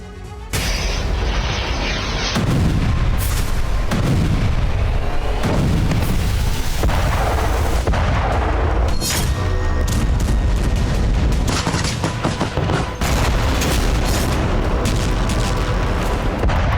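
Russian artillery and missile strikes in Kursk rumble through a dense, sustained barrage of heavy booms and blasts, loud and continuous with no pauses.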